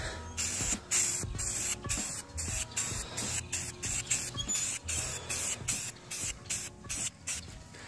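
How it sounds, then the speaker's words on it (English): A spray can of high performance enamel paint hisses in repeated short bursts onto a car body part in a makeshift home paint booth, each spray close and sharp with brief pauses between. "Let's go ahead and paint this thing."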